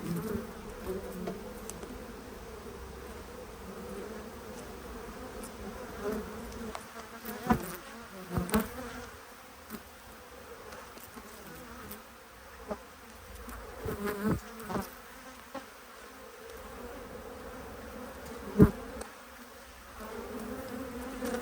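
Honey bees buzz around an opened beehive during winter preparation, a continuous droning swarm with individual bees zipping loudly past now and then, no voices.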